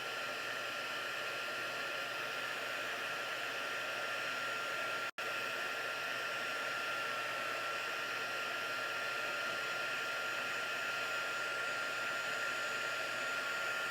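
A heat tool blows a steady, loud rush of hot air onto a papercraft card, a constant close whir with one very brief cutout partway through and no talking.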